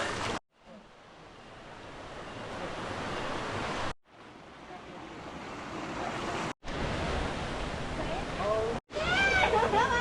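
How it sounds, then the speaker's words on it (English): Loud, steady rush of river water near a waterfall in the East Java volcano area around Mt Bromo, broadband and continuous, broken by a few abrupt cuts. "You've got to hike through the river to make it to this waterfall."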